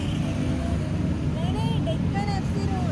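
Continuous road traffic on a busy Bali street: a dense, steady engine rumble with passing vehicles, while people talk over it nearby.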